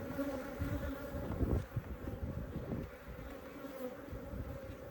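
Africanized honey bees swarm around an opened hive during a rehab inspection, giving a steady, dense buzz that stays close and loud throughout with no voices.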